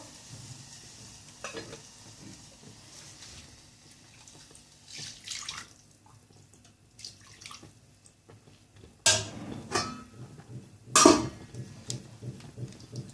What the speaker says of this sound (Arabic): هي هتحتاج شويه شوربه معايا، نحط لها شويه شوربه.